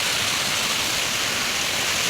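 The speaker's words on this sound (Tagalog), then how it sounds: "Ang ganda talaga ng waterfalls na to." A small waterfall pours steadily of cold water in an outdoor spot beside a rocky slope, giving a loud, continuous close-up rush with no voices.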